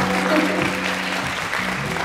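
A concert crowd at a stage show applauds a karaoke group, a dense, steady wash of clapping filling the whole moment at full strength with a faint tone held underneath.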